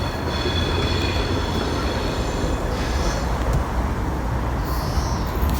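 A Class 320 train pulls into Motherwell station with a continuous rumble of wheels on rail and high squealing brakes, fairly close and without talk.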